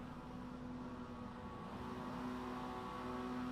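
Mazda MX-5 Cup race car engines in iRacing at Brands Hatch, held at the start line awaiting the green flag, a steady buzzing engine drone with tonal rev lines, moderately loud and uninterrupted.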